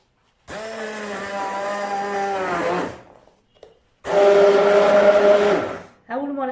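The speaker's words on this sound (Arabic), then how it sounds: "هكذا دوك نميكسيها" An electric blender whirring through fruit juice concentrate in two bursts, each rising to a loud steady whine and winding down, followed by a brief restart at the end.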